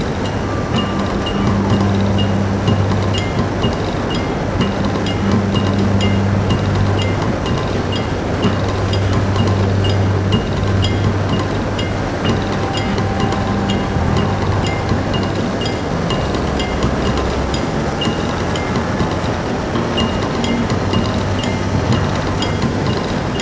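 A 2000 Honda XR600R dual-sport dirt bike runs at speed near Foresthill, a loud sustained engine drone with steady low tones under a rush of wind, with no talking.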